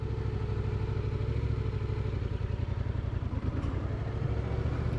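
A 2019 Yamaha MT-07 motorcycle engine pulls steadily and fairly loud throughout a test ride, a continuous low throbbing drone with a gritty mechanical rattle layered over it and no speech.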